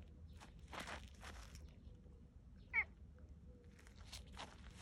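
A pet cat gives one short, clear meow midway, set among soft scuffling footsteps and rustling in a quiet, sunny spot at home.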